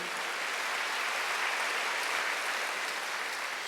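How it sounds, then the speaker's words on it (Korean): A church congregation applauds during a Sunday worship service, a steady wash of many hands clapping together that holds evenly for several seconds without speech. "박수 주세요."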